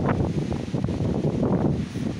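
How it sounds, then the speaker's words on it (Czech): Strong wind buffets the microphone in heavy, uneven gusts, a dense low rumble with no voices. "Opravdu strašně silně fouká."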